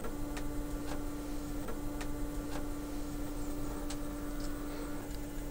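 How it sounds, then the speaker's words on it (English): A 3D printer's Bowden extruder motor on a NEMA 17 mount pushes filament, a faint steady hum with a soft coil whine and regular light ticking about every half second. "So the extruder is extruding right now."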